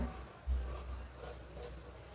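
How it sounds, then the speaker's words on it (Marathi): Scissors cut a cross strip of blouse fabric, giving a rough, rasping cutting sound up close that runs almost continuously with soft pulses, and no speech. "आता क्रॉस पट्टी मी कापून घेणार आहे"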